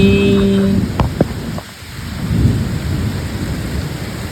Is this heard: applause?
no